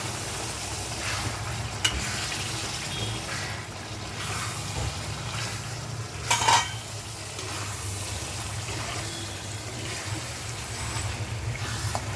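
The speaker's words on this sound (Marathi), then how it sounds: "तर ही कोळंबी आहे जी मम्मीने साफ करून ठेवली आहे आता ती आपण ह्याच्यात टाकणार आहे" Cleaned prawns go into a frying pan in a home kitchen, setting off a continuous hissing sizzle with stirring scrapes and one brief louder clatter partway through, with no talking.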